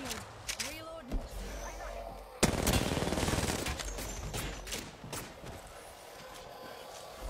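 Gunfire in the Apex Legends video game: a few scattered shots, then a sudden loud, rapid automatic burst that rattles on for a couple of seconds and tapers into sporadic shots, with game voice audio mixed in.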